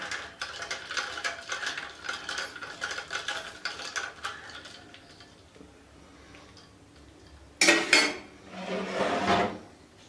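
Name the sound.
stirring peach sharbat with ice in a jug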